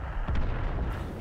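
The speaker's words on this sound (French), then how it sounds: "Ici, un tir loupé sur le T-29 qui va passer." A tank cannon shot in World of Tanks, a missed round fired toward a T-29 on the Studzianki map, lands as one deep, loud boom that rolls into a rumbling tail.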